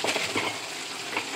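Okra frying in a pan on the stove, a brief, steady sizzle with soft crackles close by and no talking.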